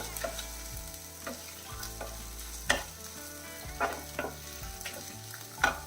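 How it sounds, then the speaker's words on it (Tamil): Dried red chillies sauté in a pan for chutney, giving a steady close sizzle broken by repeated spatula scrapes and stirring knocks every second or so. "இது வந்து காரம் உள்ள காஞ்ச மிளகா அதையும் சேர்த்து நல்லா வதக்கிடலாம்"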